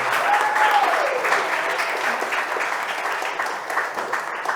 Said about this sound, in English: Give a round of applause for Mr. Michael Turpin.